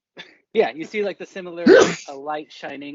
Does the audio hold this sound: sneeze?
yes